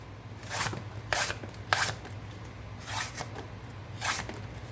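Knife slicing through cardboard into thin strips, a handful of short, crisp cuts in an uneven rhythm, close and fairly quiet, with no talking.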